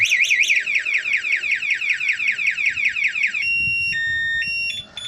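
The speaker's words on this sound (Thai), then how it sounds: "สัญญาณการขโมยก็จะดัง" A Honda MSX motorcycle's anti-theft alarm blares with a fast, repeating warble, then switches to steady electronic tones that change pitch. Loud and close, with no talking.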